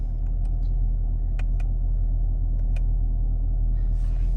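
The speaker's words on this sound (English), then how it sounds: "This will automatically start up the car with the track engine sound." Chevy Camaro idling in track drive mode, a loud steady low engine rumble with a few sharp, brief exhaust pops and crackles scattered over it, close to the car.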